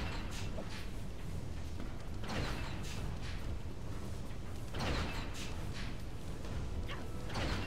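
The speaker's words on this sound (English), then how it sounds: "Ah, pistons." Mechanical piston machinery in the video game Daxter churns steadily, with rhythmic creaking and whooshing strokes recurring every couple of seconds over a dense, grinding mechanical bed.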